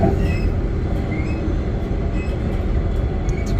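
Transperth suburban train running from Joondalup toward Perth Underground: a steady, loud onboard rumble of motor and wheels on rail, with faint high squeals of wheels over the constant roar.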